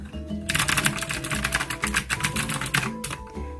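Rapid clacky keystrokes from a retro-style mechanical keyboard with long-travel switches, close and steady, typed in quick bursts with brief pauses, no talking.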